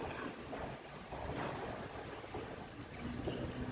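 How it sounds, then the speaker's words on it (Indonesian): Constant strong wind buffets the microphone in a low, rushing roar at an outdoor air rifle shooting range, gusting slightly stronger near the end, with no voices. "anginnya kencang banget"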